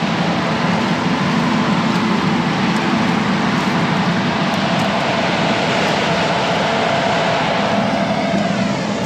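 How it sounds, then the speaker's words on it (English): A Y-drop sprayer applying nitrogen beside corn rows in a field gives off a loud, steady, unbroken engine and machinery drone with no talk. "You see, it's dropping the nitrogen right next to the row."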